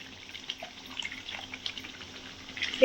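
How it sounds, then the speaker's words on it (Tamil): Water trickles and splashes into a container, a soft running pour with small bubbling bursts, close by and quiet. "இப்போ இந்த ஜாரில் தண்ணி ஊற்றி"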